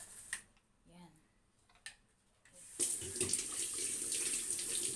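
Tap water runs steadily into a sink to soak mussels, starting after a few scattered clinks and continuing as a loud, constant splashing stream. A voice speaks briefly before the water starts.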